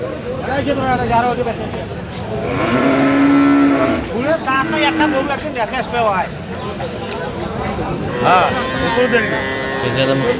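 Friesian and cross-breed bull calves moo at a busy cattle market in Dinajpur, with several drawn-out calls rising over steady crowd chatter and nearby voices.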